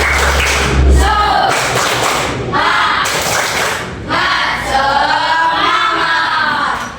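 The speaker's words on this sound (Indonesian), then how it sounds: "Kita cek dulu semangatnya. Tepuk semangat." A class of students performs a 'tepuk semangat' spirit chant, their voices chanting in unison in several bursts with claps and thumps mixed in, fairly loud and close throughout.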